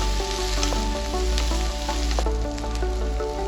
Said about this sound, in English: Now add chopped onion and cook until it turns golden brown.